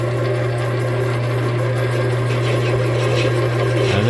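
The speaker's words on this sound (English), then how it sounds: "You can see that parting tool does a pretty nice job on the brass" A lathe runs with a steady, loud motor hum while a parting tool cuts into brass stock, adding a continuous grinding whir; the tone shifts slightly at the end.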